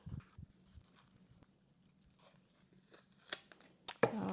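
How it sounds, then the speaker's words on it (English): Blue masking tape is peeled off an engraved object finished in gold leaf, giving faint close crinkles and short rips that end in a louder tearing pull. "So I'm just going to remove the tape."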